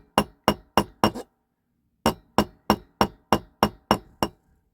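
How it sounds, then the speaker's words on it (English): Hammer peening over the thick axle of a 1959–61 Dinky Toys Thornycroft Mighty Antar diecast model, heard as sharp metallic taps, four quick strikes, a short pause, then a run of about eight evenly spaced blows, close and clear. "These are quite thick axles, so it's going to take some time for me to peen this over."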